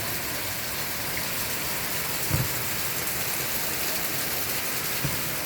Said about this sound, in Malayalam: എത്ര വലിയ ശക്തിയായ മഴയാണെന്നറിയാം